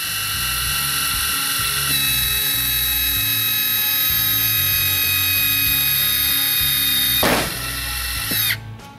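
CBS ArcSafe RSA-20F remote actuator working a Westinghouse molded-case circuit breaker: a loud, steady high-pitched motor whir with pulsing low churn runs throughout, broken near the end by a sharp mechanical snap and a brief click as it stops.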